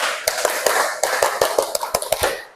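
A group claps out the 'tepuk konsentrasi' clap game in a quick rhythmic pattern of sharp, close hand claps, several bursts in a row with brief pauses and no talking over them.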